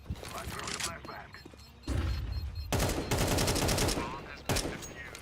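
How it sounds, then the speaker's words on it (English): A flashbang goes off in a competitive video game shooter, a sudden loud burst amid dense rattling gunfire and thumps, with a player's voice talking over the chaotic round. "I throw the flashbang."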